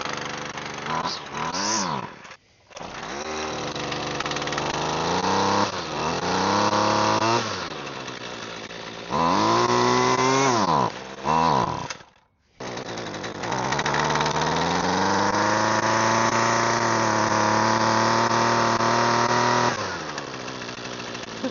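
A petrol weed eater with a primer bulb that won't fill runs in loud, uneven bursts, revving up and dropping off with brief cutouts between, close by and alone.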